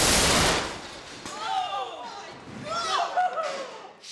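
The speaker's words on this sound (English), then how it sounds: "The cannon launched the hook all right." A cannon launching a 10-pound solid steel hook fires with a loud, booming blast at the start, then people react with excited voices and chatter.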